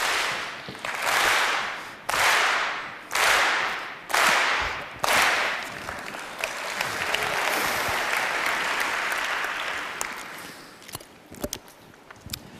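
A TED talk audience claps together in unison, five sharp synchronized claps about a second apart, then breaks into a sustained round of loud applause that fades at the end.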